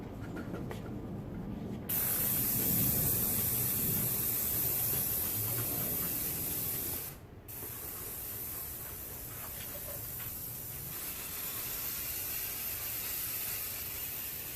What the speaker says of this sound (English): We're going to go ahead and spray her down, let her sit for 10-15 minutes